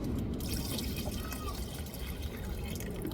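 Water pours steadily into a pot of goat intestine curry, a continuous splashing trickle over faint background noise.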